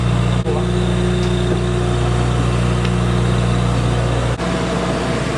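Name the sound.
RV generator running roughly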